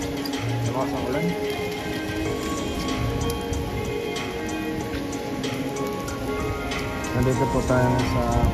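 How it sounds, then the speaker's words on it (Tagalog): Heavy rain falls steadily in Vatican City while people wait in a long line outdoors, a constant dense patter on surfaces throughout, with occasional nearby voices talking over it. "Lakas ng ulan."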